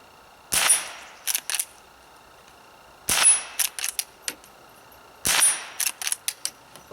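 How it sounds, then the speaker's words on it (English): Lever-action rifle shots ring out loud and sharp in three bursts, each report followed by a quick series of metallic clacks as the action is cycled between rounds, with no talking. "I'm just going to fire some rounds to give you some sense of how quickly you can work the action"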